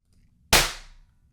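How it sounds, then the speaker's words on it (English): An impulse response made from a sine sweep sounds as one sharp, loud burst that decays smoothly through a broad reverb tail of about half a second, then falls to near silence. "here's the sound sweep"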